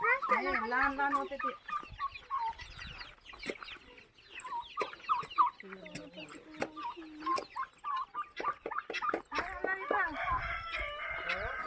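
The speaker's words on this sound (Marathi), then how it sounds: "शेवगाला आवडीने खातात कोंबड्या" Several chickens cluck and squawk close by, their calls overlapping in a busy, continuous chatter.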